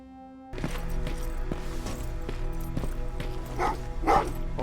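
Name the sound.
dogs barking in Terminator: Resistance video game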